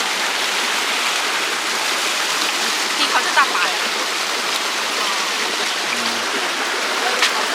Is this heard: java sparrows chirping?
no